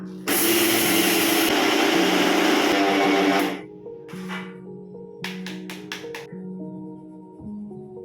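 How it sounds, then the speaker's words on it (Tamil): A mixer grinder jar grinds rice into fine powder with a loud, steady whirring burst lasting about three seconds, then cuts out, followed by quieter clatter and a few short bursts. "இதையும் மிக்சி ஜாரில் கொஞ்சம் கொஞ்சமாக சேர்த்துட்டு பொட்டுக்கடலையை அரைச்ச மாதிரியே நல்லா ஃபைன் பவுடராக அரைச்சி சளிச்சு எடுத்துக்கலாம்"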